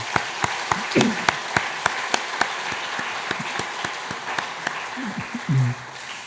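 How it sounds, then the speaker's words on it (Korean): Sparse welcoming applause from a church congregation during a Sunday service, with distinct individual claps spaced irregularly over a soft room wash and brief murmurs of voices. "우리 환영의 박수 부탁드리겠습니다"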